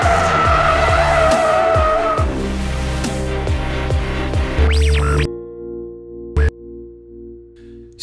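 A car drifting on a race track, its tires squealing loudly over a revving engine as it rotates and powers out of the turn; the noise cuts off sharply, leaving a quieter engine note with one brief burst.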